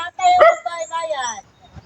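A dog barks once with a sharp yelp, then gives a short whining follow-up, close and clear, with a voice also present in the short stretch.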